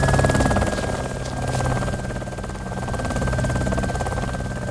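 A helicopter engine in DayZ drones steadily with a throbbing rotor pulse and a constant high whine, loud and close, with a few quiet words spoken over it.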